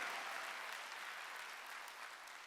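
A church congregation at a Wednesday worship service claps in a steady, even wash of applause that holds at a constant moderate level throughout.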